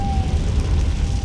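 Fiery blast from the Confringo spell in Hogwarts Legacy, a dense low rumbling roar that holds steady and loud for about a second, with a thin sustained tone running faintly above it.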